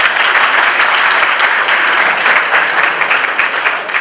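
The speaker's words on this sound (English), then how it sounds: "please, a big round of applause." Loud, dense applause from a large audience at a community organization's annual dinner, steady continuous clapping filling the whole stretch, close and with no speech over it.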